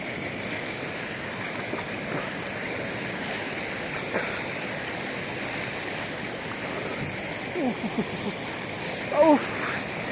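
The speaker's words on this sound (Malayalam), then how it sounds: "പ്രകൃതിയിൽ നിന്ന് ഇങ്ങനെ ഒലിച്ചിറങ്ങി വരുന്ന വെള്ളം" Clear stream water flows steadily through a forest, a continuous broadband rush with no break, up close and fairly loud, with a brief splash near the end.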